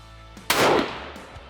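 Single rifle shot fired while hunting black bears on Vancouver Island, a sharp loud crack close by followed by a short decaying echo, then quiet outdoor background.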